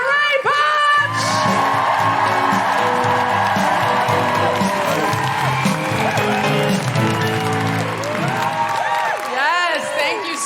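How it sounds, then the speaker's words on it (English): Packed audience at a live comedy birthday show at the Hammersmith Apollo, London, erupting into sustained loud applause, whoops and cheering that fill the hall from start to finish. "Put your hands together and make incredible woohooing noises for the one, the only, Desiree Punch!"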